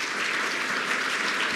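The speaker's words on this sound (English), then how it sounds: "So please give the panel another round of applause." Audience applause for a panel at a healthcare event: a dense, even wash of clapping from a large crowd, loud and sustained throughout.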